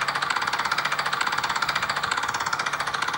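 A motorcycle engine in a Brazilian motorcycle video game idles with a rapid, throbbing exhaust pulse, steady and fairly loud throughout with no talking.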